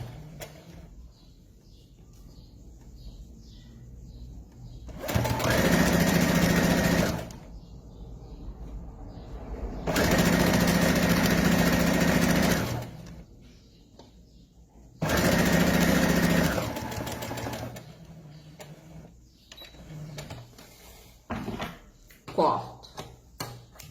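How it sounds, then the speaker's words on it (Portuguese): An electric sewing machine stitches fabric in an atelier, running in three steady, loud bursts of about two seconds each separated by pauses, with small handling clicks between runs. "Vamos à máquina. Iniciando a costura."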